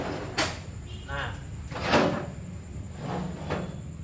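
Metal drawers on a homemade welding table slide open and shut several times, producing brief, close sliding rumbles and knocks spaced a second or so apart, with low room noise between them.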